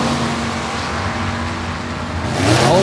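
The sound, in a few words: 1937 Chevy Coupe drag car, 383 Chevy with 671 blower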